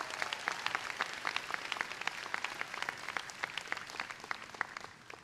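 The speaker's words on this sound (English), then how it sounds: "Let's have another round of applause for Penn's Glee Club." Audience applause for a university glee club at Penn's 2010 convocation, many distinct claps in a quick, uneven rhythm from a large crowd, moderately distant and gradually thinning.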